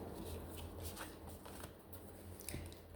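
Deck of oracle cards shuffled by hand in quick, soft riffling bursts, close and fairly quiet, with brief pauses between the rustling passes.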